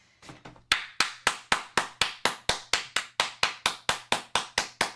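A single person claps in a slow, crisp, evenly spaced rhythm, about sixteen sharp close claps after a brief rustle, each with a short ringing decay.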